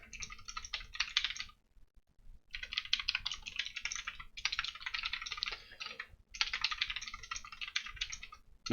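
Computer keyboard typing while an HTML web page is written, quick clicking keystrokes in bursts with short pauses between, close and fairly quiet.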